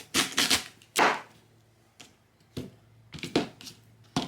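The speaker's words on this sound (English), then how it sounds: "Now I'm going to cut the sweet potato in half." A knife cutting through a sweet potato on a cutting board, giving a handful of sharp, separate thunks and taps in irregular clusters with short quiet gaps between them, close by and fairly clear.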